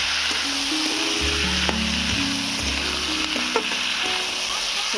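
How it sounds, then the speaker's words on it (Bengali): Chickpeas and potatoes sautéing in a pan for a red amaranth greens dish, a steady close sizzle running throughout with a few light stirring scrapes and faint tonal hum underneath; no voices. "ছোলা আর আলুটাকে ভালো করে কষিয়ে নেব"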